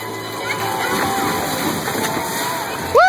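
Water sloshing and splashing around a hydro hamster ball on a pool, with excited voices and a shout under the splashes, then a sudden louder burst at the end.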